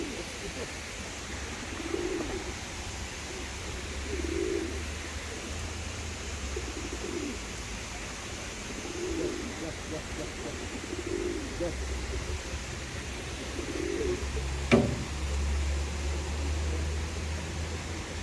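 Dönek tumbler pigeons coo softly at feeding time, giving a run of low, rhythmic coos every few seconds over steady outdoor hiss, with a sharp click near the end.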